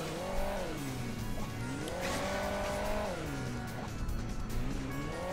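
A car in the video game Hill Climb Racing 2 drones loudly and steadily, its engine pitch rising and falling in repeated revving sweeps with no pauses.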